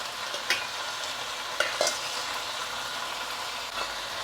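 Raw peeled prawns frying in a pan, a steady close sizzle with a few brief stirring scrapes and no talking.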